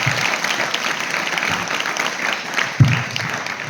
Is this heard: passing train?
no